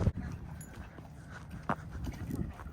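Two dogs at Elephant Rock Campground near Buena Vista, Colorado, moving nearby with faint whimpers, panting and pawing scuffles, quiet and close, with soft background noise.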